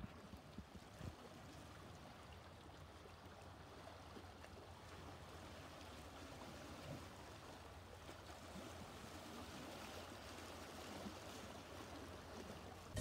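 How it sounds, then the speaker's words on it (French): Ocean waves heard at night from a room, a steady, faint wash of surf rolling continuously with no talking. "on dort avec le bruit des vagues"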